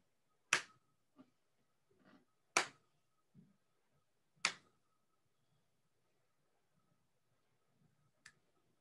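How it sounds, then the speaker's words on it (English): Sharp overhead hand claps ring out one at a time with pauses between them, several loud cracks followed by fainter ones in a quiet room as part of a movement exercise. "so we're gonna do overhead claps."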